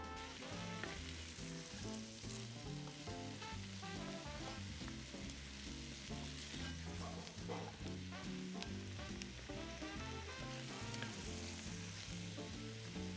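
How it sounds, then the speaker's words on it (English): Onions, celery and shallots sizzle in a pan for a Greek chicken and vegetable dish, a continuous, even frying hiss with occasional stirring, fairly quiet and without talk, over steady tonal background sound. "So our onions, celery, and shallots have been cooking for a couple minutes now"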